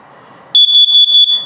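A carbon monoxide and LP gas detector in a 2019 Forest River Flagstaff 27RKWS RV sounds its self-test alarm: a loud, piercing electronic beep pulsing about seven times in rapid succession, close up.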